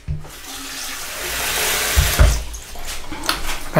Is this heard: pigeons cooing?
no